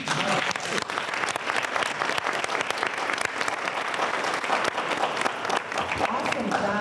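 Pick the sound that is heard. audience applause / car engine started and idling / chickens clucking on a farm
audience applause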